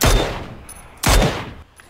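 Gunfire in the PUBG video game: two loud, close shots, each a sharp blast that rings and fades over most of a second, with a third starting at the end, and no speech.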